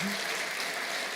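A church congregation breaks into steady, dense applause at the close of a service celebrating 21 days of fasting and prayer, filling the whole moment with continuous clapping.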